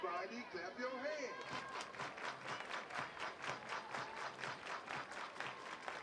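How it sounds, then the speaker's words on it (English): Spectators at an East Tennessee State versus Tennessee college softball game clap in a steady rhythmic beat that starts after a brief voice, moderately distant and continuing evenly to the end. "Everybody clap your hands."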